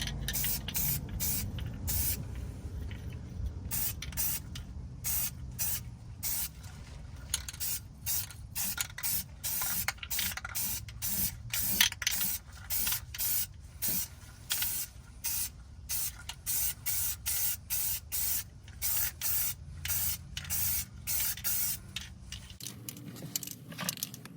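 Aerosol can of Rust Reform & Seal spraying onto a car's undercarriage, likely an Acura MDX, in rapid short bursts that repeat steadily throughout, close and loud with no talking.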